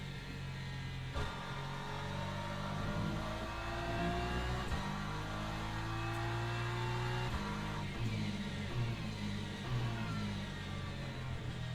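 A BMW race car engine in Le Mans Ultimate drones steadily and loudly throughout, its pitch sweeping up and down through gear changes and corners, with no voices.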